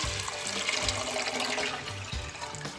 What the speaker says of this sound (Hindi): यहाँ पर मैं पानी ऐड कर रही हूँ